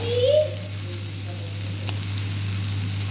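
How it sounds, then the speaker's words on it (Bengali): Potatoes frying in a pan with a steady close sizzle that carries through, joined by a brief scrape or stir near the start and a low constant hum behind it. "এই দেখো আমি আলুটাকে আগে ভেজে নিচ্ছি"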